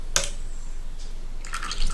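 Olive oil poured into liquids for sourdough bread dough in a kitchen, a short splashing drip at the start followed by faint trickling and a second burst of liquid sounds near the end, with no talking.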